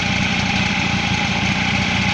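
The engine of a 1985 Honda Vision scooter runs steadily, a loud continuous drone close by with no speech.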